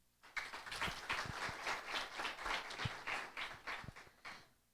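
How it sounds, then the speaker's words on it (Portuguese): Audience at an innovation panel event clapping to welcome a panelist, a dense burst of applause that swells quickly, holds for a few seconds, then tapers off, heard from a distance. "Palmas, por favor."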